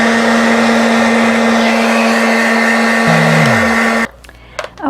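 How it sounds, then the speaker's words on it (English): A hair dryer blows on acrylic paint across the bottom of a sunrise canvas painted in Bob Ross style, a loud steady whirring hum that winds down in pitch and cuts off near the end, leaving faint scattered sounds. "Now, what I'm going to do is dry the whole bottom area with my hair dryer."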